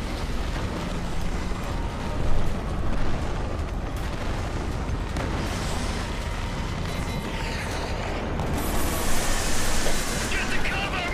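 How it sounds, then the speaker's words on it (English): Mortar blasts in Killzone 3 rumbling and booming through a dense, noisy battle that runs on without a pause, with heavy impacts rising near the start and again toward the end, and voices mixed into the din. "Get the cover, mortars!"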